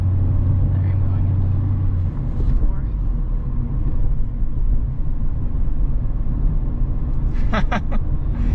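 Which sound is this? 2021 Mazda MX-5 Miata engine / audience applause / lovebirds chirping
2021 Mazda MX-5 Miata engine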